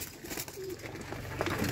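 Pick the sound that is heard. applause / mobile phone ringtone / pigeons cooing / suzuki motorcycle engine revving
pigeons cooing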